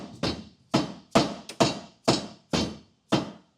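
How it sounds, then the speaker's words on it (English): Seven sharp hammer knocks at a steady, roughly half-second rhythm, each ringing briefly, as a B&W universal fifth wheel hitch base rail is driven backward in the bed of a 2015 Ford pickup. Close, clear, with no talk. "I'm gonna get this back rail and I'm gonna just knock it as far back as it can go."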